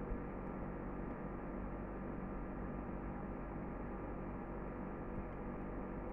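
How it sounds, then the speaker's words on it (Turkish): A home air conditioner runs with a steady, even hum and broadband whoosh that fills the room without change, and no one speaks. "klima açık. Sesi inşallah rahatsız etmiyordur sizi"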